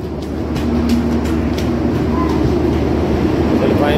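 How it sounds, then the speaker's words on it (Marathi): A Jan Shatabdi passenger train pulls out of Kankavli station, its steady low rumble and rolling clatter filling the whole stretch, with faint voices in the background. "फायनली आपली जनशताब्दी ट्रेन सुटलेली आहे"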